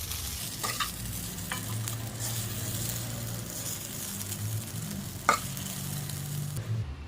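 Onion poha being stirred in a hot pan. A continuous close sizzle carries a few scraping spatula strokes and one louder knock near the end.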